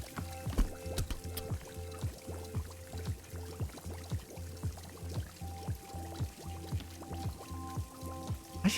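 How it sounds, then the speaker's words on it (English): Tea poured in the video game Wanderstop, a steady gurgling stream of liquid with rhythmic glugs filling a cup, close and clear with no talk over it. "I will run in and make myself some beepa tea. And perfect pour, right here."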